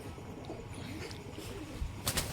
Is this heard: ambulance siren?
no